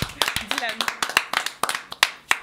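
Sparse, uneven clapping from a small audience at a studio broadcast, a few individual sharp claps in an irregular rhythm, mixed with voices talking over it.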